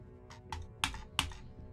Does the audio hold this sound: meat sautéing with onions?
no